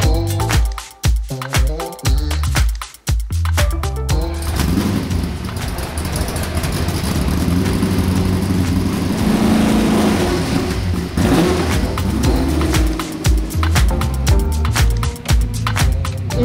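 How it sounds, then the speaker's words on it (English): A C6 Corvette drifts on Gold Line tires, its engine revving hard in rising and falling bursts, then a long, loud, broad roar of tire shredding and engine noise before more sharp revs near the end. "we're gonna shred some gold line tires from the tire box in the Corvette"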